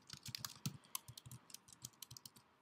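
Typing on a computer keyboard at a desk while entering text, a quick uneven run of light key clicks and taps, close but quiet, with no voices.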